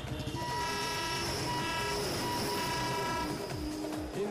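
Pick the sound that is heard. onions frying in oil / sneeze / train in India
train in India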